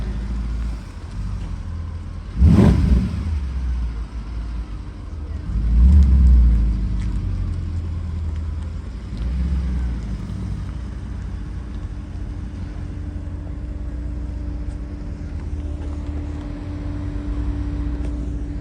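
A naturally aspirated 6.3-litre Mercedes-AMG V8 in an SLS at a display event, one sharp loud blip near the start followed by a rumbling idle and a second swell, steady engine drone throughout with no talk.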